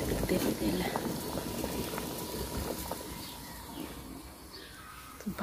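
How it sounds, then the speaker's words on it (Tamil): Jaffna odiyal kool porridge bubbling as it boils in a pot in Switzerland: a steady simmering gurgle with soft pops, heard alongside faint background voices. "இப்போ பாருங்கள் எல்லாம் அவிஞ்சிக்கிட்டு இருக்குது, கொதிச்சிக்கிட்டு இருக்குது"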